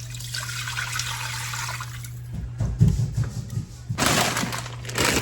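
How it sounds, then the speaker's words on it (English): A jar of beef broth poured into a pot in a home kitchen, giving a short splashing, gurgling liquid burst midway and a louder rush near the end over a steady low hum. "Now I'm gonna add a jar of beef broth."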